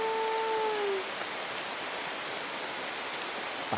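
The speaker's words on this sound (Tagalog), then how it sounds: "Patay ka, kusog na sa ulan." Steady heavy rain falling outdoors on a road at night, a dense, even hiss that fills the whole clip, with a couple of faint tonal whistles fading out in the first second.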